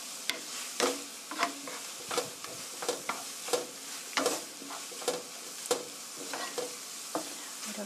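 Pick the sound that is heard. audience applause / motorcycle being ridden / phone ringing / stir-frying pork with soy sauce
stir-frying pork with soy sauce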